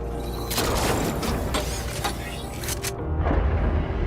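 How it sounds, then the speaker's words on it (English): Gunfire in the video game Borderlands 4 cracks out as a string of sharp, crisp shots and mechanical clicks over a busy rumbling mix, with a heavier boom near the end. "Why the gunshot sounds so satisfying?"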